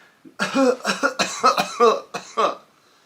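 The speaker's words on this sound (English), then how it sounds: "Kind of a deep, strange cough." A quick, close run of about eight deep, rough coughs, then quiet.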